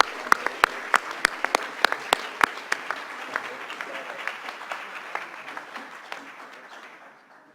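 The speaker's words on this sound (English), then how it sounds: "if you could applaud them all for all the efforts they've taken to come join us" An audience at a conference claps in applause, with a few loud close claps over a broad wash of clapping that gradually thins and fades out.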